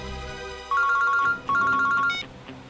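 A mobile phone ringtone plays loud and close, two bursts of a repeating electronic melody separated by a short pause, with faint background sound before it and no talk over it.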